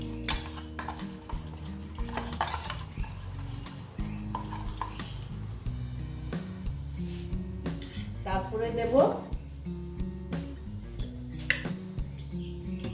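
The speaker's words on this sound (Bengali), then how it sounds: "তারপরে দিচ্ছি আমি নুন দিয়ে ভালো মতন ফেটিয়ে নিচ্ছি" A spoon or whisk beats a vegetable mixture with salt in a bowl while a vegetarian steamed sabzi is prepared. Steady, rapid clinking and scraping of metal against the bowl runs throughout, close and fairly loud, with no speech.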